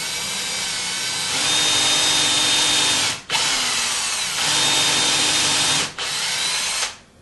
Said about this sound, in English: I'm going to try to drill up into the wood now.